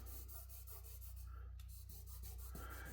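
A Cold Steel AD10 knife blade is sharpened on a 1200 grit 3M Trizac sanding belt, a soft steady abrasive hiss over a constant low machine hum, close but fairly quiet, with no talking.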